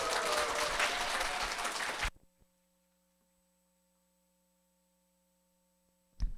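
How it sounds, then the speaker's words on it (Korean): Loud audience applause at a lecture that cuts off abruptly after about two seconds, leaving near silence with a faint steady hum before a short bump of sound at the end. "다시 한번 크게 박수."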